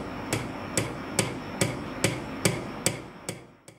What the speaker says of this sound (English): when someone is hammering on the board